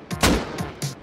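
Gunfire in the Rust survival game, a few sharp shots in quick succession with a loud burst in the middle, close and without speech.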